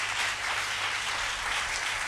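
A church congregation applauds in a steady, dense wash of clapping that holds at an even level for about two seconds without pauses.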